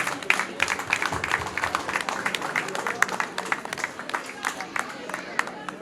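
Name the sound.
applause for the children's mother at a wedding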